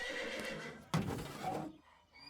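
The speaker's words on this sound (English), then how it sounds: "Virginia, what color is the horse named Rusty, and where does he live?" An all-black horse in a loose box along a stable aisle gives a loud, drawn-out whinny in an audio drama, rising suddenly after a quieter stretch and trailing off into near silence.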